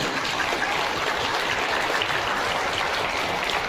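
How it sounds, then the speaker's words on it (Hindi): A large crowd at a big Hindu gathering claps loudly with raised hands to welcome the chief guests, a dense, continuous roar of applause with no break. "उनका जोर से दोनों हाथ ऊपर करके ताली बजाकर स्वागत करें।"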